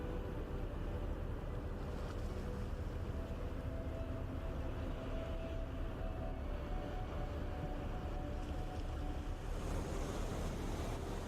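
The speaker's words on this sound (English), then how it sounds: "Take a moment to listen to the waves crashing against the cliffs." Steady roar of surf and wind in Mauritius, waves crashing against cliffs near a lighthouse, a continuous low wash with no distinct breaks, fairly faint and distant.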